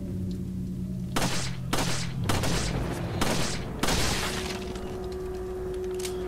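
Gunfire in the Resident Evil 4 video game: about five sharp, loud shots fired in a quick irregular string, each with a short crack and echoing tail, over a low humming game background with no speech.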